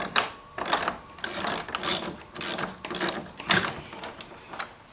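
Ratcheting clicks from tightening the locking nuts on a front RV camera mount, coming in several short close bursts with brief pauses between them and no talking.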